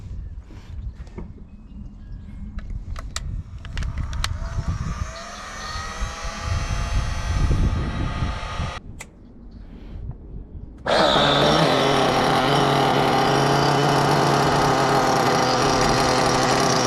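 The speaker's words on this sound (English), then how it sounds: "I'm gonna preheat the engine. We're gonna fire her up and just see how she does on the road." A Losi 8ight X Elite nitro RC car engine fires up and runs, buzzing and revving unevenly before settling into a loud, steady high-pitched drone close by.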